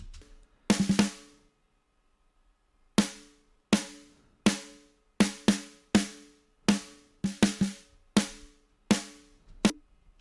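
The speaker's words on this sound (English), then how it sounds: "Next up is snare." Isolated metal snare drum hits with a sharp crack and short ringing tail, a quick double hit and then about a dozen evenly spaced strikes, no talking.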